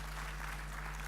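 Conference delegates at a devolution conference applaud, a brief steady patter of clapping heard faintly from a distance over a low hum.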